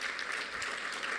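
Faint round of applause from the audience at a gala dinner and awards convention, a soft, steady wash of distant clapping with no voices over it.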